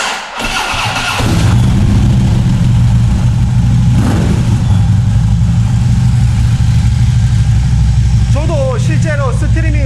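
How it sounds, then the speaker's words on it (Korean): A Harley-Davidson Road King motorcycle fires up with a sharp start, then settles into a steady, deep, loud idle from its exhaust; a brief voice is heard near the end. "시동 한번 걸어보겠습니다. 3, 2, 1, GO!"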